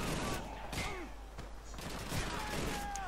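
Sustained machine gun fire in the World War II video game Call of Duty 2, with rapid dense bursts, distant thuds and battle noise rumbling continuously.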